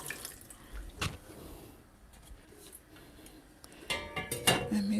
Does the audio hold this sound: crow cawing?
no